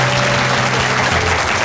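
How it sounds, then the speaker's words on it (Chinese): A studio audience claps steadily and loudly for a brief burst, dense applause filling the space with no voices above it. "我们要给红姐鼓鼓掌啊！"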